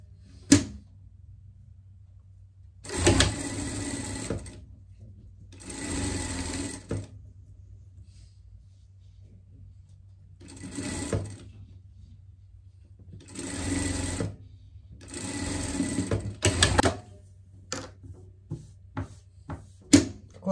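A sewing machine topstitches fabric for a pet costume in several short bursts of rapid stitching separated by quiet pauses, with some small handling clicks near the end.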